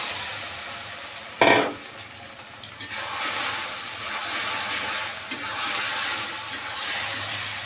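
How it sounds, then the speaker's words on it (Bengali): Soya chunks fry in hot oil in a wok, sizzling steadily while being stirred and turned, with a sharp scrape of the spatula early on and softer clinks throughout, close and fairly loud. "এপাশ ওপাশ করে সয়াবিনটাকে সুন্দর করে ভেজে নেব।"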